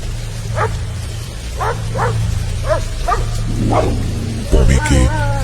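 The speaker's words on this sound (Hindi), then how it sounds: "पॉमी के भौंकने और रोने की आवाजें सुमित को परेशान किए जा रही थी।" A small pet dog gives a series of short, high yips and whining cries at a steady pace indoors, with heavy rain and low thunder rumbling in the background and a louder burst of sound near the end.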